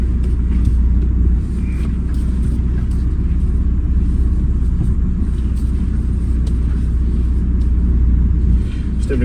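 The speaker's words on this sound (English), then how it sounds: "This will be the first time moving the vehicle on the ground." A Volkswagen Beetle 1.9 TDI PD100 with a newly fitted steering rack rolls along the ground, a steady, close, low diesel rumble with faint road and mechanical noise throughout.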